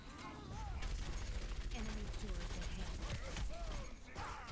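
Rapid automatic gunfire in a first-person shooter game rattles continuously at a low level, with a player talking over it.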